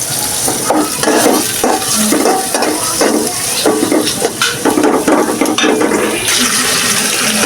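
Spices and potatoes sautéing in a pan after browned onions, with a steady sizzle broken by repeated scraping and stirring strokes of a spoon against the pan, close and fairly loud throughout.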